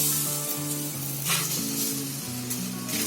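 Thin flatbread batter spread with a spoon on a hot tawa griddle, giving a continuous close sizzle with light scraping, under a steady background hum.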